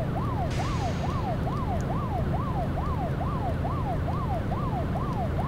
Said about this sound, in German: Geil, jetzt hab ich mal Blaulicht, hör mal.